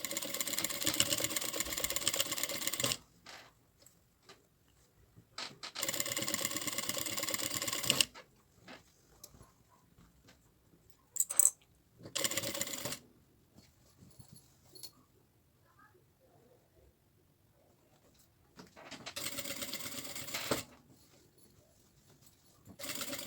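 A sewing machine fitted with a general-purpose presser foot stitches fabric for a cloth backpack in several short bursts, separated by quiet gaps with light handling noises.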